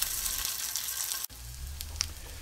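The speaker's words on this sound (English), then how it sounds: "Throw it on the pan and watch it sizzle." Loud, steady sizzling of rockfish cakes frying in a hot pan, briefly interrupted by a sharp drop, then resuming with a crackling hiss.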